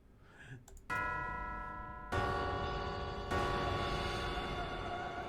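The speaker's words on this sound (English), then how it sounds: "As the eerie sound of the bells fades away" Eerie bells ring in the video game West of Loathing, three evenly spaced tolls whose bright tones hang and overlap. A faint murmur of voice comes just before the first strike.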